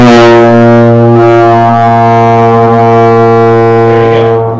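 Student playing a single sustained low note on a low brass instrument during a lesson, one loud, buzzy, steady tone held for over four seconds before cutting off, played alone.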